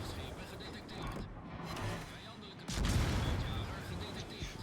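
Warship guns fire in World of Warships, a heavy booming salvo that erupts partway through over a constant rumble of sea and engine noise, with speech near the start.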